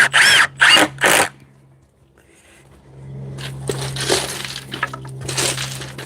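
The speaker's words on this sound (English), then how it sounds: "I'm gonna drill it in." Power drill driving a screw into a wooden fence post outdoors, three short loud grinding bursts followed after a pause by a longer, steadier rough whirring and scraping at close range, with no talk.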